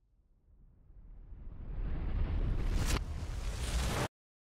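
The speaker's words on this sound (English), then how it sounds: "epically blew up a Russian BM-21 Grad rocket launcher" A Russian BM-21 Grad rocket launcher blows up after an FPV drone strike: a deep roar swells over several seconds into a sustained loud rumbling blast with a sharp burst near the end, then cuts off.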